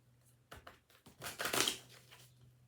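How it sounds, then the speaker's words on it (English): A tarot deck gets one more shuffle, with a few quick card flicks followed by a short, louder rustling riffle that fades over about two seconds against a faint low hum. "One more shuffle."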